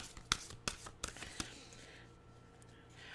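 Tarot cards tapped and slid back into the deck, a few sharp quick card clicks and shuffles in the first second and a half, then near silence.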